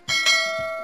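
A bright notification bell sound effect rings twice in quick succession, its clear metallic tone sustaining and slowly decaying, with no voice over it.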